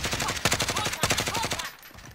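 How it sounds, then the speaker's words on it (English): Explosive rounds fired in Call of Duty: Warzone, a rapid burst of sharp, punchy reports in quick rhythm, loud and close, before cutting off into quieter background. "Explosive shot."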